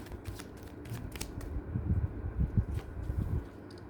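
Tarot cards shuffled by hand at close range, a run of soft papery riffles and flutters that builds in the middle and keeps going to the end, with no talk over it.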